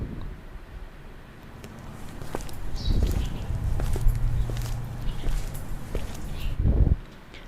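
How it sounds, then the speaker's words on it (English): Footsteps on pavement with birds, a library sound effect in Soundtrap: a steady run of moderately loud steps with scattered faint chirps over a low background, growing a little louder midway. "Maybe footsteps on pavement birds."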